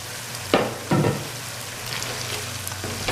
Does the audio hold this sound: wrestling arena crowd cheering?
no